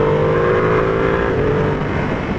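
A 2020 Ducati Panigale V2 engine pulling hard and shifting through gears with its quickshifter, a loud, close, steady howl that barely dips at the smooth changes.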